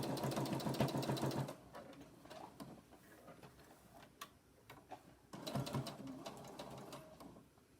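A sewing machine stitches a seam along the bottom edge of a homemade fabric mask. Its fast, rattling run is heard in two bursts, with quieter handling noises between them.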